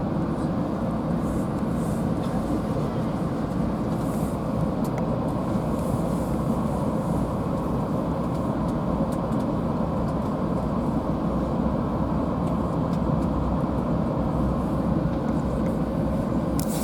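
Steady rumble and rolling rail noise from aboard a VIA passenger train running past Kitchener Yard, with locomotives 568, 4708 and 4710 nearby, a continuous dense roar throughout, no talk.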